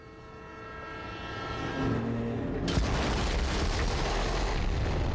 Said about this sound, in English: Now the Vault Hunter needed to find out where that train was going.